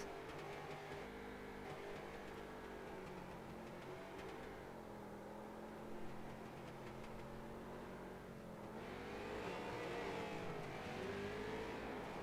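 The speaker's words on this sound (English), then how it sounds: "Tough circuit to do victory burnouts in, apparently, with how tight it is." A Pro Street Stock race car roars steadily in a tight circuit during victory burnouts, engine droning loud and continuous with a rising rev surge near the end, no voices.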